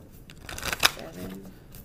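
Cards are riffle-shuffled once in a quick, crisp burst with a soft flutter, close by, with faint talk around it.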